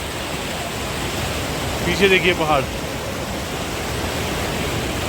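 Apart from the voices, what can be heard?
cold mountain stream water flowing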